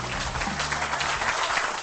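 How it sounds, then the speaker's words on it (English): A short burst of steady applause runs throughout, with a low voice murmuring faintly beneath it. "Please clap."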